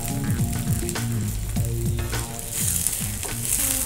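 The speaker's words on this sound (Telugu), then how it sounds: "అల్లం పేస్ట్ కొద్దిగా పచ్చివాసన పోయితే మనం ఫ్రై చేసుకోవాలండి." Ginger paste and curry leaves fry with softened onion for chicken kurma, a continuous bright sizzle with repeated spatula scrapes and knocks against the pan in an irregular rhythm.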